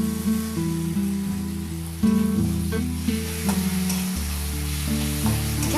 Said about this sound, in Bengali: দিয়ে পেঁয়াজটাকে আমরা ভেজে নিচ্ছি। এখন আমি এর মধ্যে 1 টেবিল চামচ কাঁচা লঙ্কা বাটা দিয়ে দেব।